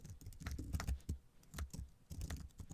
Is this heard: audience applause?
no